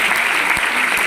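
A crowd at a DXN millionaire meeting breaks into a short burst of loud, dense applause with many hands clapping together.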